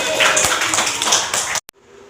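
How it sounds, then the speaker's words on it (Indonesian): A classroom group claps in a short burst of quick, close hand claps that stops abruptly, followed by a brief pause and near silence. "Tepuk tangan."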